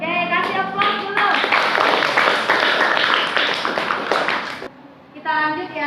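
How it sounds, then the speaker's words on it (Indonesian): Classroom audience applauding during a teaching-practice lesson, a dense burst of many hands clapping for about four seconds, with a teacher's voice speaking briefly before and after. "kasih aplaus dulu"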